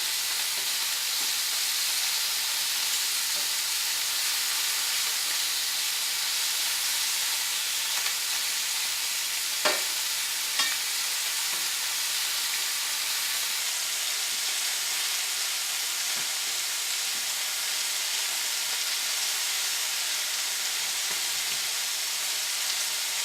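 Thin sirloin steak strips sizzle fast in a hot pan for a stir fry, a steady broad hiss of frying throughout with a couple of brief clinks or scrapes, no voices.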